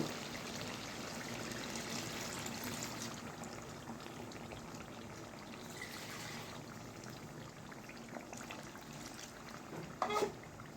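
Water being added to chicken cooking in a pan, a soft continuous pouring and sizzling trickle that stays quiet, with a brief louder clatter near the end.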